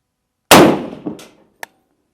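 A single sharp rifle shot from a PSA Sabre AR-10 cracks out loud and close on a cold outdoor range, its echo decaying, followed by a brief distant metallic ping.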